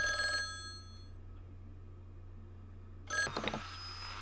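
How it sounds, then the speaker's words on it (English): In Dark Fall: The Journal, a game telephone bell trills briefly at the start, falls silent over a low hum, then rings again near the end, with no voices present. "Oh, she said the phone might be ringing."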